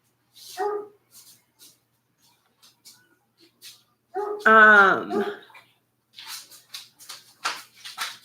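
A dog barks and whines in short bursts, with one longer yelping cry in the middle, amid quiet pauses and faint rustling.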